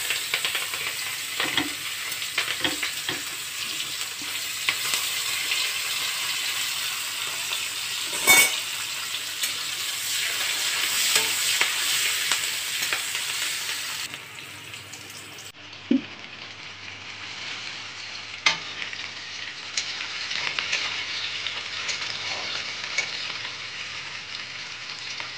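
Pieces of rohu fish frying in a pan, a steady loud sizzle with occasional clinks and stirring sounds, the hiss briefly dropping and then resuming.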